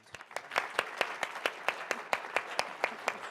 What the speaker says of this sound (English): And one last round of applause for our winner, please.